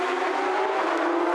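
Porsche Carrera Cup race cars lapping the Tianjin circuit, a loud, steady, high-pitched engine drone sustained throughout with no pauses.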